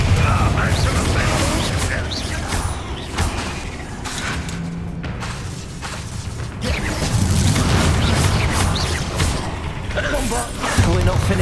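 Confringo and Bombarda spells go off in Hogwarts Legacy combat, a dense run of loud booms, bursts and cracks under a dramatic score, with a man calling out spell names over the action.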